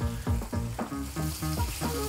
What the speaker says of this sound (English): Always lay the steak away from you and hear that sizzle.